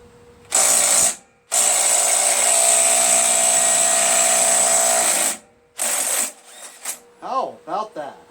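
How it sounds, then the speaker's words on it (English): A DeWalt impact wrench with a 1/2 inch socket spins off a 1 1/4 inch nut on a Craftsman LT1000 lawn tractor with a Briggs 20.5 opposed twin, giving a short burst and then a long loud hammering run, followed by spoken voices. "I'm going to use my DeWalt impact,"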